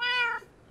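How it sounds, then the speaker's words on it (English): A cat meows once inside the Minecraft video game, a clear, tonal and fairly loud call that fades out, followed by a brief burst of other game noise at the very end. "Ryan, don't forget your daily dose of meowing."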